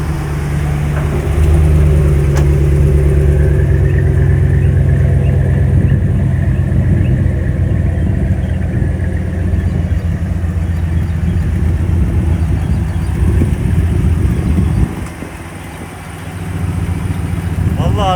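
A car engine runs at a steady, loud idle after a key start, rumbling continuously close by with a brief dip near the end; voices talk over it at times.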